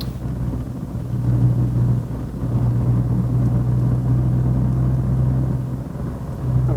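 A 1.6 litre car engine revs with a loud, low rumbling drone that rises and holds steady for several seconds, dipping briefly before surging again.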